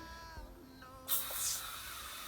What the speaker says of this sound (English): So it sprays on blue, but it turns white when it's ready.